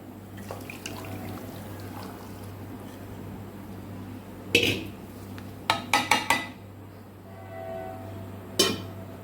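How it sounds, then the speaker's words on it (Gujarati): Khandvi batter being strained with a ladle in a home kitchen, heard as a few sharp metallic clinks and taps of the ladle against a strainer and pot, several in quick succession, over faint background hum. "હવે આપણે હવાલા વડે ગાળી લેશું"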